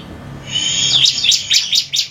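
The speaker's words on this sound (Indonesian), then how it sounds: "Burung ciblek biar ngebrand tidak ada ciap-ciapnya" A bar-winged prinia songbird sings close and loud, opening with a thin sustained whistle and then breaking into a quick series of bright, rhythmic chirping notes.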